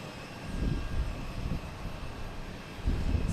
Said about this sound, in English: Next to arrive is the Cape Air Cessna 402 coming in from Martha's Vineyard